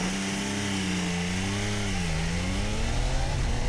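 A Triumph Trident 800 motorcycle pulls away in first gear, its engine note rising steadily and loudly as it accelerates, heard close up with a steady rush of wind.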